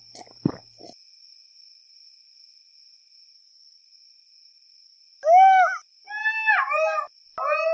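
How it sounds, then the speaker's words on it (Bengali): Crickets chirp at night in a village, a steady high drone running through the whole stretch, with a thump early on and several wavering animal howls rising near the end. "ঝিঝি পোকার ডাক"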